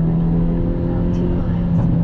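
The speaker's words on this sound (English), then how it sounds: "I love this sound. Ooh, the pops, the bangs." 2022 Hyundai Elantra N on throttle with a steady, loud engine drone heard from inside the cabin, a couple of faint crackling pops near the end.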